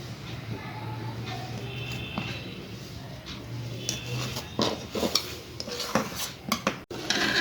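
Soft white idada dhokla pieces are set onto a plate, with a run of light clinks and scrapes of a utensil on the dish that grow busier toward the end, heard close and alone.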